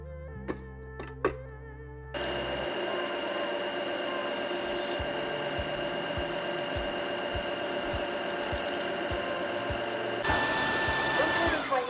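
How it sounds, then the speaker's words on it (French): A floor washer running its self-cleaning cycle, starting with a few short beeps and then a steady mechanical whir with rhythmic pulsing thumps, rising louder near the end, with no talking. "Démarrer l'auto-nettoyage"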